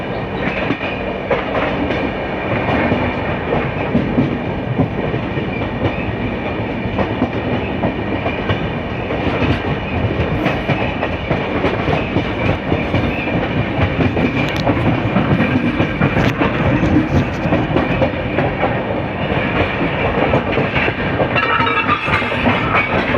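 A Rajdhani express train runs steadily on the rails, its wheels beating a continuous clickety-clack over the joints with a loud, dense rumble throughout, heard from inside or close beside the moving carriages.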